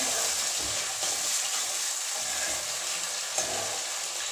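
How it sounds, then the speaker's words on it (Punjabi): Onions sizzling steadily in a pan as they cook to light brown, part of preparing dhaba-style cauliflower at home; a continuous close frying hiss with faint stirring, no talk. "ਪਿਆਜ਼ਾਂ ਨੂੰ ਆਪਾਂ ਹਲਕਾ ਜਿਹਾ ਬਰਾਊਨ ਹੁੰਦੇ ਤੱਕ ਪਕਾ ਲੈਂਦੇ"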